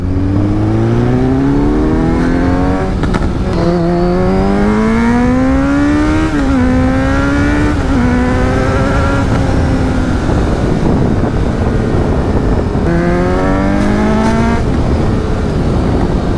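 A Kawasaki Z900 motorcycle engine revs hard and close, its pitch climbing and falling through several long pulls, with a brief drop and a final burst of throttle.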